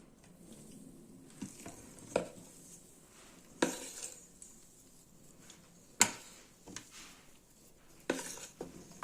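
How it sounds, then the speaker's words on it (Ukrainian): Egg whites being mixed in a bowl for Easter bread: quiet, intermittent clinks and scrapes of a utensil against the bowl, with a soft stirring hiss underneath. "перемішали білки майже"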